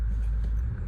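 A 2007 Toyota Auris D-4D diesel engine rumbles steadily and close by in a brief, low, even drone, heard alone.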